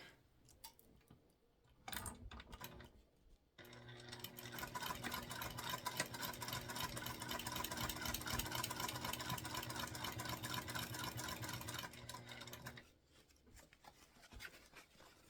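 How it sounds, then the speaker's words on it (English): A domestic sewing machine stitching a structured bag runs in a steady, fast, even mechanical whir for about nine seconds, with short clicks before it starts and after it stops. "And we're going to go ahead and sew this together."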